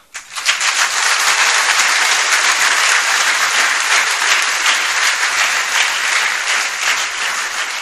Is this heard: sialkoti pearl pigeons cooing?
no